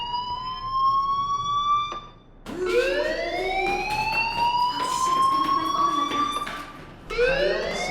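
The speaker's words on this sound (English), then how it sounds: "Hey, do you hear that fire alarm?" A fire alarm in the game Life Is Strange wails loudly in rising, sweeping tones, cutting off briefly near two seconds and again near seven before starting up once more, with no one talking over it.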